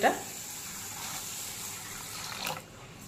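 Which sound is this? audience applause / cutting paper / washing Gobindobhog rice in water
washing Gobindobhog rice in water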